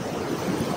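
A river flowing beside steaming hot springs in the Himalayan valley at Manikaran, a steady broadband rush of water that stays constant throughout, with no voices.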